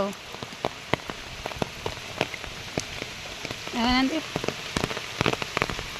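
Rain pattering steadily on surfaces during a downpour that has flooded roads and ponds, with scattered close drops and a brief voice partway through.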